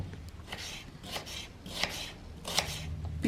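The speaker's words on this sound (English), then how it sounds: "First of all, we are going to cut these onions." Knife cutting through about half a kilo of onions in a home kitchen, sliced medium-thick: several separate dry chopping strokes at an uneven pace, close and moderately quiet, with no talk.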